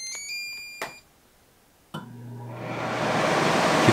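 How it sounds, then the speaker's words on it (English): An air conditioner powered by an EcoFlow Delta Pro power station starts up after a few short electronic beeps; a thump is followed by a steadily rising rush of fan and airflow noise. "You can hear the air conditioner turn on."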